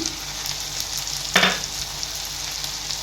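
Masala spices including coriander powder and fish masala fry in oil for a Katla fish curry, a steady close sizzle with a sharp hiss burst as something hits the pan, no voices.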